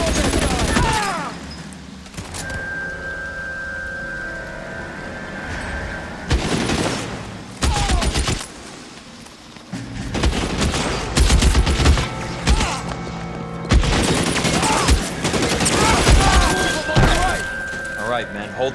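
Gunfire in the shooter L.A. Noire: repeated loud volleys and sharp bursts of shots, with pauses and thuds between them, under game voices shouting.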